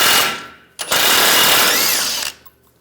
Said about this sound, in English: Using a 21mm socket, we'll take this nut off to the tie rod.